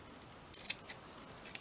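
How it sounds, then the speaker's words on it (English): Scissors snip thread bits off a small handmade mini broom, a quick cluster of close crisp cuts followed by a couple of lighter snips, fairly quiet with no talking. "get my bigger scissors, and then just cut these little bits"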